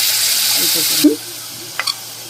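Chili powder and spices frying in a pan get a splash of water, giving a loud broadband sizzle that cuts off abruptly at a clatter, followed by quieter kitchen sounds and a couple of brief clinks.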